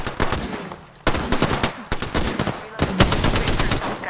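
Rapid bursts of automatic gunfire from a video-game firefight ring out loud and close, with sharp cutoffs between volleys and several sustained strings of rattling shots.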